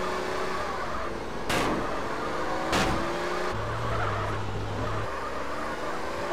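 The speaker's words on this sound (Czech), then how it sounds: "To auto dělá smyky." A car skidding and drifting in GTA San Andreas, engine droning steadily with two sharp bursts of tire scrub and a low sustained tone mid-way, continuous and fairly loud without speech.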